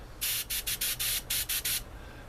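An airbrush fed from a CO2 tank at around 16 psi gives eight short bursts of sharp, close hissing spray in quick succession, with brief silences between them.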